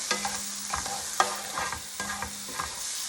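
Shrimp stir-fry in a hot pan with cauliflower rice, loud close sizzling broken by repeated rhythmic stirring and scraping strokes, with no talking.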